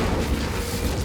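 The Incendio fire spell cast in Hogwarts Legacy, a dense, steady roaring whoosh of flame with deep rumbling that fills the whole moment at a loud level.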